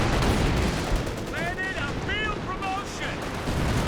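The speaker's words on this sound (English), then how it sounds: "Artillery barrage doesn't end up doing too much there." An artillery barrage rumbles in a Company of Heroes 2 battle, heavy dense booms and a broad roar filling the whole stretch, with a few brief high tonal game sounds layered over the top.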